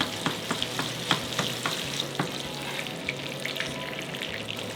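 Breaded chicken breast cutlet frying in a pan of oil with butter added, a steady soft sizzle with small pops and occasional utensil scrapes, close and quiet with no voices.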